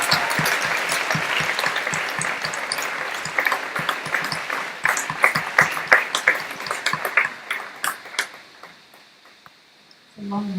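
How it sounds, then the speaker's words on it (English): A graduation ceremony audience applauds graduates walking to the stage, a loud dense wave of clapping that thins into scattered claps and fades before a voice begins at the end. "Let's give them another round of applause."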